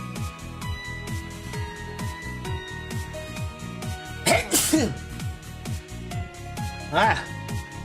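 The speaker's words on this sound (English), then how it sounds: "That was a sneeze." A sudden sneeze bursts out close by, followed a few seconds later by a second similar burst, both over a repetitive background music loop.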